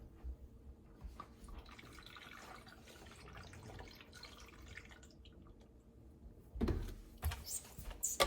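Orange juice pours and trickles into a container for a fruit smoothie, a faint liquid splash at first that grows to louder gurgling splashes near the end, with no talking.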